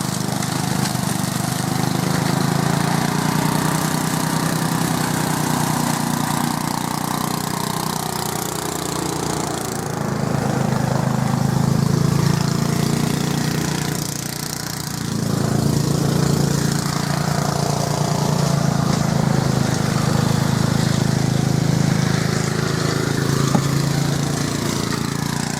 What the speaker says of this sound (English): That tractor's going like a train now.